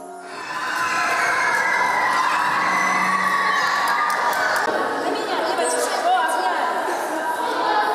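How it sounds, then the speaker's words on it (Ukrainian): A crowd of children cheers and shouts in a school sports hall during a sports competition, a dense, loud, echoing roar of voices that swells after a quiet start and stays steady. "Саме тут, у спортивному залі, можна було щосили кричати та плескати у долоні, вболіваючи за улюблену команду."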